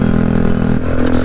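A Bajaj Dominar 400 motorcycle with a loud aftermarket exhaust idles and blips, a deep throbbing rumble close and very loud that drops in pitch partway through, with no voices.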